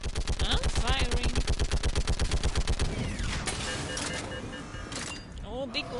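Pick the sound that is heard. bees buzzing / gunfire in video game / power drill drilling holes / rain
gunfire in video game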